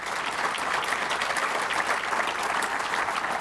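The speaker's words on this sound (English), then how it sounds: "So join me in giving Dennis and Northern Initiatives a hand of applause" An audience at an awards event claps steadily, a dense, even wash of applause sustained throughout with no voices over it.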